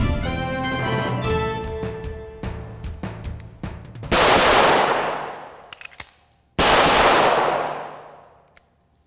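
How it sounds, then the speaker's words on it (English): Colt pistol being reloaded with retention by a pro shooter: a run of sharp metallic clicks and clacks of magazine and slide handling, followed by two loud, close gunshots with long ringing decays, no talk. "The technique that I just demonstrated is a reload retention"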